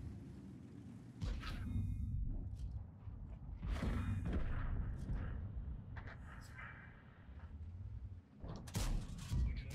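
Tank cannon shots in World of Tanks, a Charlemagne heavy tank among them, boom over a constant low engine rumble, with several sharp blasts spaced across the stretch as someone talks over parts of it.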